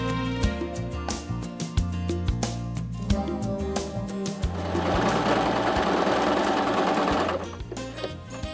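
Brother LS 1217 sewing machine stitching fabric, a loud close rhythmic mechanical chatter that runs steadily throughout, briefly speeding into a denser whirring stretch before settling back, with no talking.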